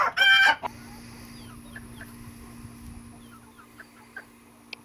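A loud burst of rooster crowing and squawking opens inside a chicken coop with several roosters, followed by quieter scattered clucks and bird calls in a calm background.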